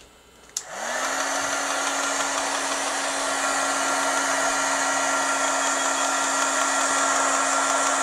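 A heat gun switches on with a click and runs as a steady, loud whirring hiss with a constant hum, continuing without pause while drying wet paper.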